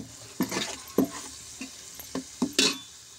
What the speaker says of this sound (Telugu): ఉల్లిపాయ కారం కొంచెం పచ్చివాసన పోయి ఆయిల్ పైకి తేలిదాకా ఫ్రై చేసుకోవాలి. అప్పుడు ఈ కాకరకాయ ముక్కలు వేసుకోవాలండి.